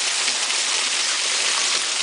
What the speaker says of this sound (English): This is just rain.